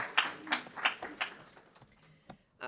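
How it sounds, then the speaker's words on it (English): A few faint, scattered claps from a conference audience at an anti-racism event in Sugarcreek, Ohio, spaced roughly evenly and thinning out before fading. "So a round of applause for those guys for all the work for today."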